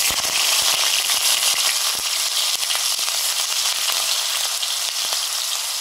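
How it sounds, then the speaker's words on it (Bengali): Onion paste sizzles and spits hard in hot mustard oil for an eggplant dish, a dense, loud, steady frying hiss with sharp crackles and pops scattered throughout, close by and with no talk. "সরষের তেল দিয়েছি, এবার দিচ্ছি পেঁয়াজ বাটা"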